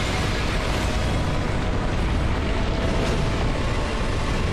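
Continuous dense roaring explosions fill a boss fight in a video game, a loud, unbroken wash of blasts and rumble with no clear pauses.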